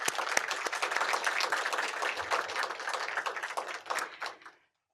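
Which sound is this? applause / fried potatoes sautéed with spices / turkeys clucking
applause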